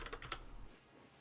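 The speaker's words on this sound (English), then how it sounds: "And I'm typing Crawdon." Quick clatter of keys on a computer keyboard, a handful of close taps in the first half second, then fading to quiet.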